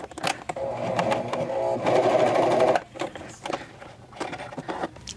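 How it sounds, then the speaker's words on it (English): A Janome CoverPro 1000CPX coverstitch machine sews a short run, its fast mechanical whir close and loud for a few seconds, then stopping with scattered handling clicks and rustles. "So I'm gonna sew that really quick."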